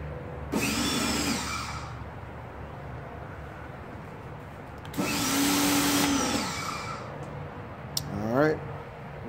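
Greenworks 1700-PSI 1.2-GPM cold-water electric pressure washer running nearby with a moderate steady hum, rising into two louder, hissing bursts of spray.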